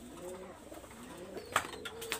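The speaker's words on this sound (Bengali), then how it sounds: "ভিউয়ার্স আমি এখানে একটা টাইগার ডাবওয়ালা এটা ফিমেল কবুতর আমি দেখাচ্ছি" Soft cooing from a tiger dab female pigeon, low and fairly faint, with a few small clicks and rustles toward the end.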